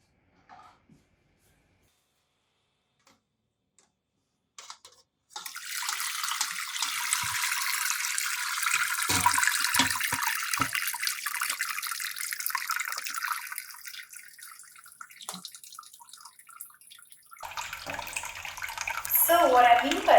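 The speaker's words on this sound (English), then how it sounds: "I'm going to be sprinkling hot water on the grains" Hot water is sprinkled over mash grains while sparging beer, a steady hiss of falling spray that runs for about twelve seconds at moderate level, then gives way to a louder mixed splashing near the end.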